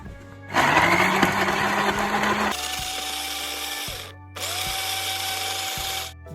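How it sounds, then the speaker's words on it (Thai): Blender whirring through chili, garlic and warm water to make a pork-leg dipping sauce, loud and steady, pausing briefly twice then restarting, with no talk. "แล้วเราจะปั่นกันครับ"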